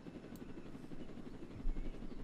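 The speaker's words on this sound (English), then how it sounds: "I'm in a helicopter." A helicopter flies in the video game Jailbreak, its rotor producing a steady, fairly quiet chopping drone that continues throughout, with a brief low thump near the end.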